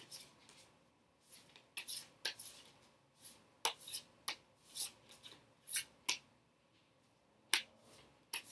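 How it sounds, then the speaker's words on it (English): Tarot cards are shuffled close up in a series of quick riffling swishes and snaps, irregular bursts with short pauses between, no one speaking. "Shuffle a little more."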